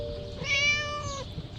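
A locked-up cat in the video game Scary Teacher 3D gives a single clear, drawn-out meow lasting under a second, heard alone over faint background hum.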